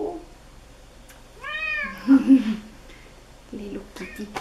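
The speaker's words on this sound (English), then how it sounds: "Hello. Little kitty." A small kitten gives a clear, close, rising-and-falling meow, followed by a second shorter meow, with a person speaking softly in between.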